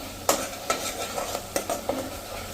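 Spices with black salt, salt and red chilli being stirred into sizzling oil for an all-in-one chutney, a spoon scraping and tapping the pan in several distinct strokes over a continuous close sizzle.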